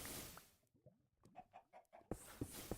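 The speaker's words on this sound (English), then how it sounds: "I hear chickens." Chickens clucking in Minecraft, a few short clucks sounding quietly between bursts of background noise, faint and close.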